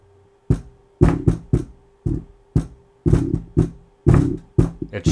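Deep, heavy thumps pulse from a SuperCube III subwoofer on a workbench in irregular bursts, some single and some in quick pairs, each decaying fast, with no talking.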